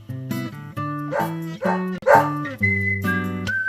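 A dog in the video game Deadly Premonition barks in a loud, close series of tonal woofs and yips, several rapid calls alone without talk.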